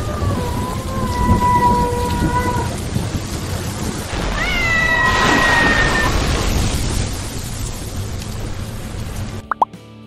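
An orange cat in a Halloween costume carrying a pumpkin lantern meows in an AI-generated Halloween scene, several drawn-out meows over steady rain and rumbling thunder, ending with a couple of sharp knocks.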